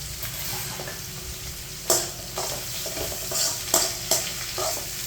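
Bitter gourd sautéing in a hot pan, a soft continuous sizzle broken by a few sharp scrapes and knocks of a spoon stirring, no talk.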